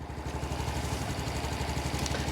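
Low, rumbling engine runs steadily with a rapid chugging pulse, heard from a short distance at moderate level while a ramp is set up to bring a vehicle out, with no talk over it.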